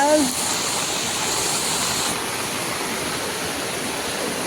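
Rainwater rushes down a colony waterfall after heavy rain in a loud, continuous wash of water noise, with a voice briefly at the start.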